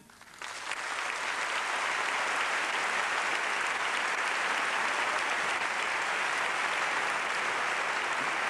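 A large audience breaks into sustained, dense applause at the 2007 Holy Week proclamation (pregón) in Seville, rising quickly and holding steady at full strength without a break.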